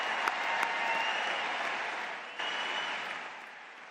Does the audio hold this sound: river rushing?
no